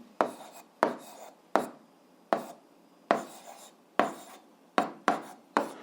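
Pen strokes on paper while algebra multiplication is worked out by hand, a series of about nine crisp, close scratching strokes in an uneven rhythm with quiet gaps between them, and no voice.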